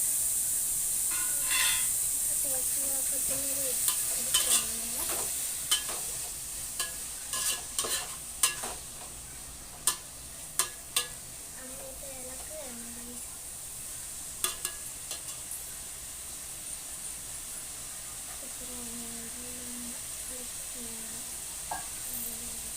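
Food sautéing in a pan with coconut pieces, a steady close sizzle and hiss with a spoon stirring and scraping at intervals, and a voice talking faintly now and then.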